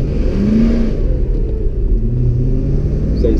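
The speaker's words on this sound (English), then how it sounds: "Let's go drive this 5-speed manual 540i" A BMW E39 540i V8 with a five-speed manual accelerates, its engine rumbling loud and close with a rising, low-pitched growl from inside the car.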